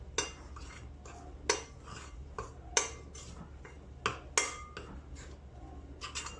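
Spoon stirring magic dough ingredients with a teaspoon of salt in a bowl, giving a series of sharp clinks against the bowl at irregular intervals over a soft scraping background, close by and with no talk.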